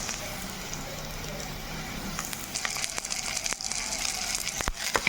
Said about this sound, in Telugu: పచ్చివాసన పోయే వరకు ఫ్రై చేసుకున్నాము అల్లం వెల్లుల్లి పేస్ట్ని